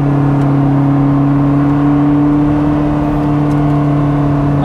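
Onboard engine of a Koenigsegg Jesko supercar holding a loud, steady drone with strong low tones and constant road and wind roar, with only a slight rise toward the end.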